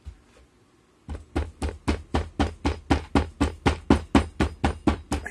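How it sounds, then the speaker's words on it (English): A hammer pounds clay down into a casting flask while a stone is set in red clay. After a second of near-silence come about fourteen steady, evenly spaced blows, close and loud. "Hammer that down really well."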